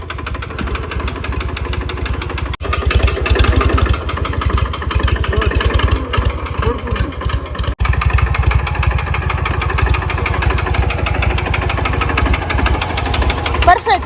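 A tractor engine chugs loudly and steadily while driving, a close, rough low thrum with a knocking pulse that barely lets up, as people talk over it throughout.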